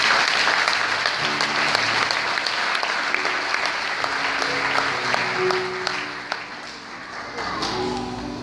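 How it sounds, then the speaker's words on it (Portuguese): A church congregation applauding during a sermon, sustained clapping from the crowd with some vocal cheers and murmurs mixed in, gradually thinning toward the end. "Você pode aplaudir ao Senhor por isso?"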